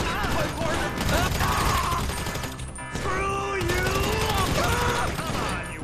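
Rapid gunfire from a slow-firing weapon in Grand Theft Auto 5, dense loud bursts of shots mixed with game music and effects, with a person talking over it.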